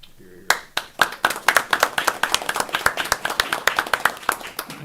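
An audience at a board of education meeting breaks into applause, starting after a brief pause and building into steady, close clapping, with people talking over it.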